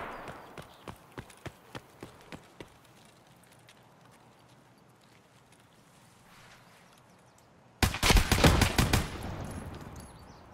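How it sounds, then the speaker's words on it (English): Distant gunfire in the shooter game Escape From Tarkov: a string of evenly spaced single shots, then quiet, then a loud rapid burst of automatic fire closer in. "Somebody firing off a lot of bullets in that direction."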